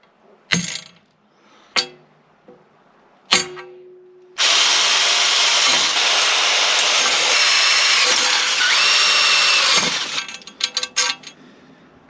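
A power drill bores a hole while mounting a 2022 Yamaha T9.9 kicker outboard, running loud and steady for about six seconds, with a few sharp knocks and handling clatter before it and after it stops.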